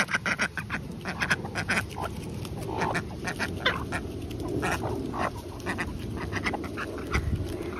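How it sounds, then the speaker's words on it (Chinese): A duckling quacks over and over, close and clear, in quick uneven bursts of short calls against a soft outdoor background. "小鸭鸭，你光叫有什么用？"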